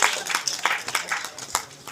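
An audience applauds at a Tamil film event to congratulate the producers, a short burst of scattered hand claps heard close, with voices mixed in.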